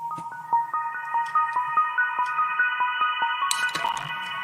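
Remix section processed with a low-pass filter and Valhalla reverb: a repeating pattern of short synth notes with washy reverb tails over a soft low pulse, ending in a brighter sweeping burst, no talking.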